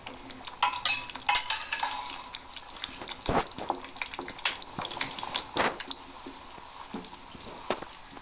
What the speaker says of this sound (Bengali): এবার ভালো করে মেখে নিতে হবে।